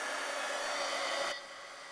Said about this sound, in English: we're going to take the heat emboss gun and we're going to emboss